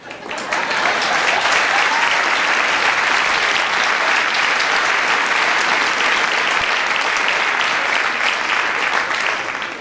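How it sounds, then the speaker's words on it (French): An audience at a 1994 comedy show claps steadily, dense continuous applause that rises quickly and holds loud and even throughout, with no talk over it. "combien de personnes sont capables de taper dans les mains?"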